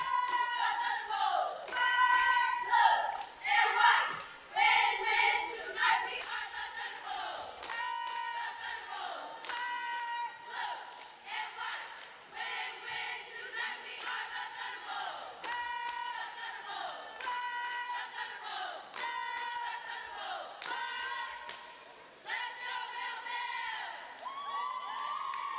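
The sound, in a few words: cheer at a high school basketball game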